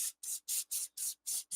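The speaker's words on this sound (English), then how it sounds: "we can use some of the spray adhesive here" Spray adhesive hissing from a can onto carved foam trees, six short even bursts in a steady rhythm, close and alone.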